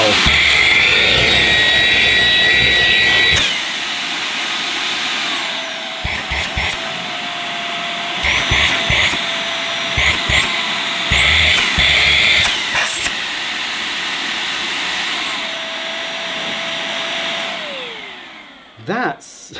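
A Eufy E20 robotic vacuum cleaner runs on maximum suction with a loud, high-pitched motor whine that starts and stops, with clicks and handling knocks between bursts before winding down at the end.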